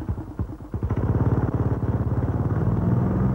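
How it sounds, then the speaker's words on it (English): A Yazoo Big Wheel lawn mower engine sputters, catches and settles into a rapid, steady putter, loud and close, with no voices. "To start the engine, you stand safely behind the mower."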